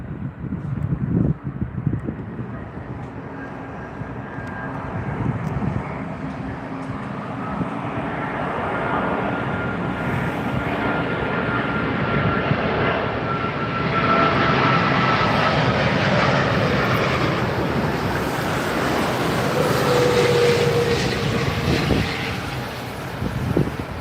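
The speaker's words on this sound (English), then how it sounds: "Yes, it is Virgin A350. Here it comes." A Virgin Atlantic Airbus A350 arrives at London Heathrow on runway 27R, its engine roar swelling gradually from distant to near and loud over about twenty seconds, with some wind buffeting on the microphone.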